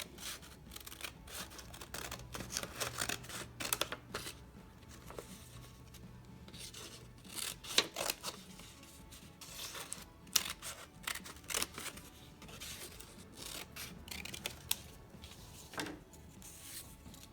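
Scissors snip through a sheet of paper to cut out a traced square image for a homemade memory card game, with faint irregular clicks, rustles and paper handling close by and no talking.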